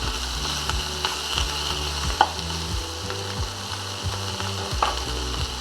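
Chicken pieces searing in a well-heated saucepan, a steady close sizzle and crackle with occasional clinks and scrapes, no voices.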